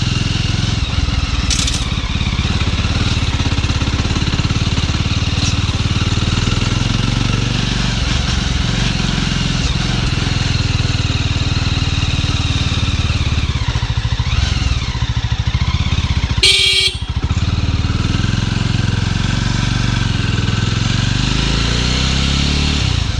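A 2022 Jawa Classic 42 motorcycle engine runs steadily and loudly while being ridden, with gear shifts along the way and a brief sharp burst of noise near the end.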